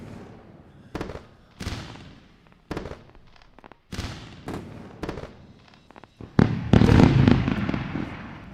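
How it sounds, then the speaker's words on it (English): Fireworks effect marking a filled trade: a run of sharp pops and crackling bursts at irregular intervals, building to a dense, loud sustained crackle near the end. "Fireworks bust."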